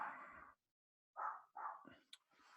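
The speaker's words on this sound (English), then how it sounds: "Let me just yell out to my dog." A dog barks indoors in a house, several sharp, fairly loud barks in quick bursts separated by brief silences, with nobody speaking over them.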